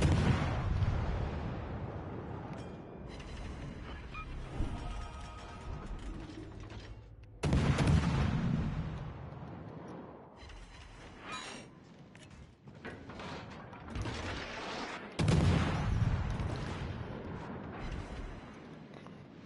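Heavy ship guns fire armor-piercing shells in a naval battle video game, three deep booming salvos spaced several seconds apart, each followed by rumbling decay under steady engine and ocean ambience.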